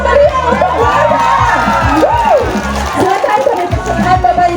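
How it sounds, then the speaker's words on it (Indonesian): A crowd cheers and shouts at an outdoor campaign rally for regency candidates in Andoolo, a loud continuous roar mixed with amplified speech over the crowd. "Beri tepuk tangan yang meriah untuk warga."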